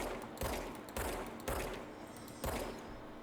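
Gunfire in the video game Control, four loud separate shots about half a second to a second apart, each with a sharp attack and a short booming tail.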